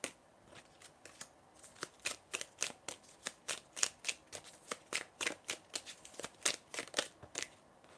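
A deck of oracle cards is shuffled by hand, giving a rapid run of crisp riffling flicks and snaps, close and fairly quiet, repeating at an even, quick rhythm.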